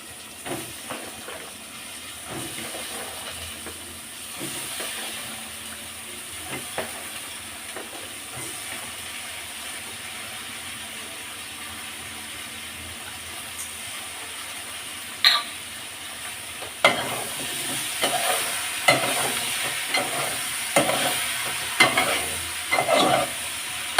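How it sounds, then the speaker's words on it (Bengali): Shrimp fry in a pan with a continuous oily sizzle and hiss, at first fairly even, then joined by louder, more frequent scraping and clattering stirs in the later half; no one speaks. "আর চিংড়ি মাছগুলোকে একদম ভাজা ভাজা করে নেবো"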